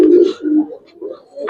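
Pigeons coo close by in short, throaty, rolling phrases, loud and near, with a brief pause between calls.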